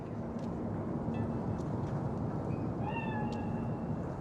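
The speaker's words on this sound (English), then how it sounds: "Chill, just a cat." A cat meows in Cyberpunk 2077, a couple of short, faint mews over a steady low ambient hum, with no talking.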